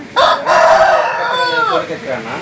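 A rooster offered for sale near Nellore crows once, loud and close, a long drawn-out call that rises and then falls away over about two seconds.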